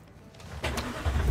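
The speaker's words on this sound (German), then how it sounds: "Wir starten den Motor." A car engine starts in Cyberpunk 2077: a quiet mechanical whir, then a louder crank and catch as the engine turns over, with no talk.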